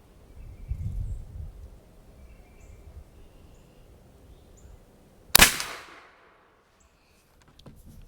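A single loud, sharp crack from an AEA Element Max .45 caliber air rifle firing a 240 grain slug, after quiet outdoor background with faint bird calls.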